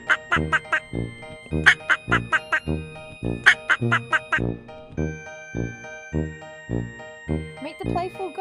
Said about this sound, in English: Quack, quack, a duck is here. Quack, quack. Ducks say quack.